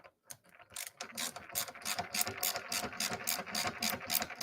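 Screws driven into the two-section back panel of a Golden Tee Deluxe arcade cabinet build, likely with a power driver: a close run of rapid ratcheting clicks that stops and restarts in quick bursts, with no voices.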